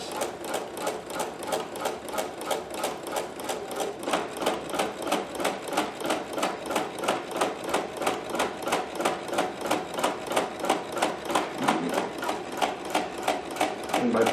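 Embroidery sewing machine running locking stitches, a fast, steady, evenly spaced mechanical chatter of needle strokes, close and continuous throughout with no pauses.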